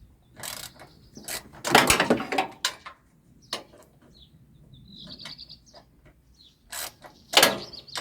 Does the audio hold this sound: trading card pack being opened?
no